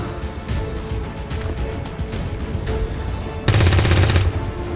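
A loud burst of automatic gunfire as a soldier takes a shot in XCOM 2, a dense rattling volley about a second long rising above a constant rumbling battle ambience.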